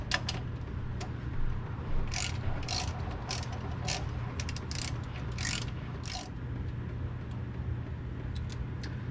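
A ratchet with an 8mm socket works drive shaft bolts loose from the pinion yoke on a Jeep TJ, sounding as bursts of quick clicking over a steady low hum, close by and fairly faint, with no talking.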